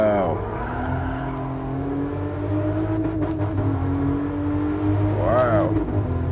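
A Toyota Supra in a VR driving simulation pulls hard in third gear, its engine note climbing steadily and loud, with a man's brief exclamations over it.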